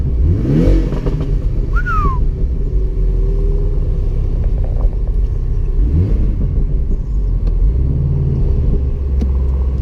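A 2017 Porsche Boxster 718 S engine rumbles and revs nearby, with a few sharp pops from the exhaust over the steady low drone.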